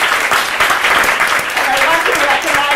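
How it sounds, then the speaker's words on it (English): A book-event audience applauds the author Elizabeth Nunez with loud, dense clapping, and voices and cheers mix in throughout. "a round of applause for Elizabeth"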